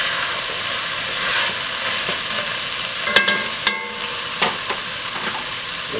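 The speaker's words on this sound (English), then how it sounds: "Give that a good stir." Pork and Hatch chile stew stirred in a pot, with a steady soft sizzle and a few sharp spoon clicks against the pot near the end; no talking.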